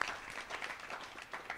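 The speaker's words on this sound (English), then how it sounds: "Can I give it a round of applause?" An expo panel audience gives a round of applause, steady scattered clapping from a crowd heard at moderate distance and fairly soft for the brief moment.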